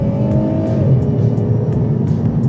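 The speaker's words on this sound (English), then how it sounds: "You get the little upshift noises and stuff." A 2009 Alfa Romeo 159 JTS with a V6 engine revs hard from inside the cabin, its loud engine note dropping as it upshifts, with brief shift clicks through the sustained roar.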